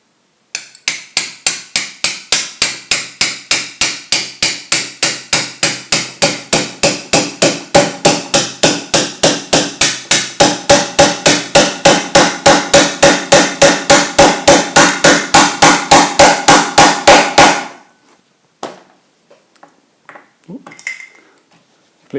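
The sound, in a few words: hammering a roll pin into a Pierburg 2E3 carburettor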